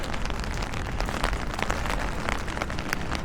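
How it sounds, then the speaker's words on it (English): Steady rain falls outdoors in a middle-class neighborhood in the Philippines, a dense, continuous patter of drops on surfaces close around while someone walks, with no voices. "But you can still walk in the rain."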